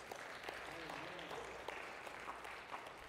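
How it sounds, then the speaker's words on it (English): A church congregation claps in praise, a steady, dense burst of hand clapping carrying on throughout with a few voices mixed in. "Give him a hand clap of praise"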